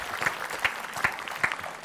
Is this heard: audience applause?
yes